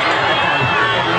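Crowd cheering at a pig race, a loud, dense roar of voices and whoops filling the whole brief moment.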